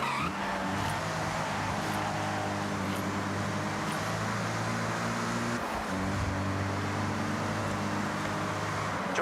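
A Mazda MX-5 in Forza Horizon drives steadily with a loud, sustained engine drone and shifting pitch bands, plus brief tire noise, close and continuous for the whole stretch with no talking.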